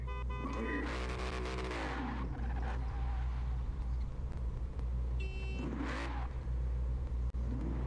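A car engine in Forza Horizon 4 drag racing revs and surges in two loud bursts over a steady low drone, with faint tire noise between them.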